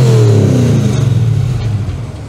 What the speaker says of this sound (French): Tu peux nous mettre 2-3 bons coups de gaz